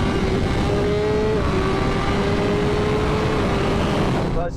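A BMW M1000 RR motorcycle and a BMW M5 CS car accelerate side by side in a third-gear roll-on drag race, producing a loud, sustained, dense engine roar with steady tonal whine throughout, no voices.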